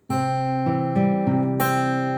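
Plucked guitar strings ring out in a steady sequence of note pairs, each attack sharp and sustaining, played alone and close; the picking pattern of a song.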